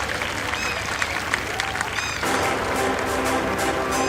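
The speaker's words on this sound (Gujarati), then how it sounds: "તાળીઓના ગડગડાટથી વધાવી લઈએ" An audience at a school annual day claps in a dense, even patter. Partway through, a sustained tone or music comes in beneath the applause.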